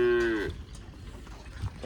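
A cow gives one long, loud moo with a rich harmonic tone that fades after about half a second, leaving quiet rustling farmyard background.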